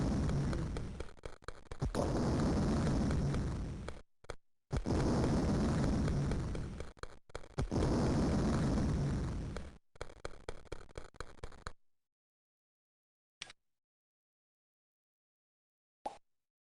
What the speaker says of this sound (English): I've always thought the building demolishing sound effect for in this game sounded too much like an explosion.